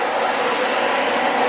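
Dyson DC25 upright vacuum cleaner running over a metal vent grate, a steady loud broadband whoosh of airflow and motor with no breaks, close up and alone.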